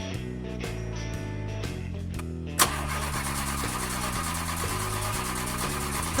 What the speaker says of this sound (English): let's start the car and go.